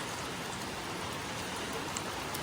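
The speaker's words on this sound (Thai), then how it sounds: "ตอนนี้บานสวรรค์ฝนตกอากาศเย็นเย็น" Steady rain falls over rice fields in rural Thailand, a dense continuous hiss of drops on surfaces, even in loudness and without any voices.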